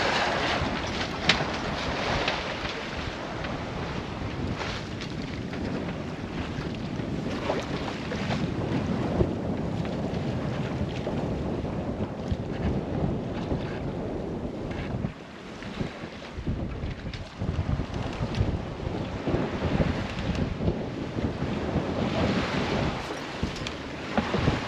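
A sailboat under way at sea while sailing solo toward Trinidad, with steady wind buffeting the microphone and water rushing along the hull and waves for the whole stretch, no talking.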